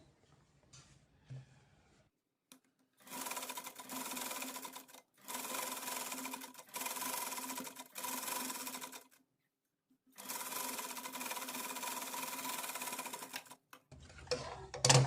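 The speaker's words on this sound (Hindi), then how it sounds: "अब इसे हम ऊपर की तरफ कपड़े की सिलाई जो है, हमारी जो स्टिच है, इसे ऊपर की तरफ करेंगे और यहाँ पे दाब सिलाई लगा लेंगे।" A sewing machine stitching the bottom hem of a trouser leg runs in several close, loud bursts of rapid mechanical whirring, separated by short pauses, with light clicks at the start and end.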